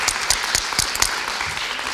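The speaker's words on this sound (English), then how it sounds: "I'd like to applaud her." An audience applauds at a lecture awards presentation, a brief, even round of clapping from many hands, with a few sharper claps standing out near the front of the room.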